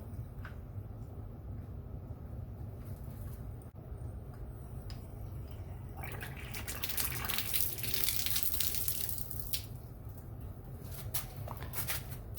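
Water rushes through a partly opened valve on a well head, a continuous hissing gush that swells and grows brighter midway before settling, with no talking.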